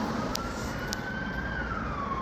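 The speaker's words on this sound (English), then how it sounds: "you can hear sirens approaching." Emergency vehicle siren wailing in a steady tone that slowly rises and then falls, moderately loud over a dense roar of traffic, with brief faint high blips and no speech.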